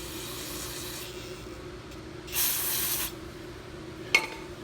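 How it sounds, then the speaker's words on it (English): A short hissing burst of carburetor cleaner spray lasting under a second over a low steady hum, followed by a brief click, while servicing a poorly running Honda HRB215 lawn mower. "go back over it again with carb spray."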